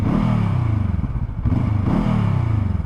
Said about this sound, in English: The exhaust sounds quite nice when you're stopped, because it's actually got two pipes at the back.